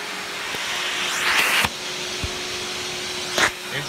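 A Panasonic Jet Flo MC-6255 upright vacuum cleaner runs with a steady, loud airy roar and a faint underlying hum, broken by a few brief knocks and bumps as it is handled up close.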